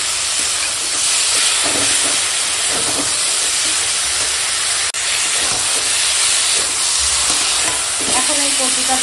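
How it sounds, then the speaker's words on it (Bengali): Taro and prawns with spices sautéed and stirred in a hot pan, a loud continuous sizzle and hiss with the scrape of stirring close by, no voices. "এখন এই কচুটাকে কষাচ্ছি"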